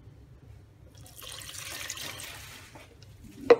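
Water is poured into a pot to top up a natural dye bath of vegetables and peelings, a soft, steady splashing and trickling that builds midway, with a brief knock near the end.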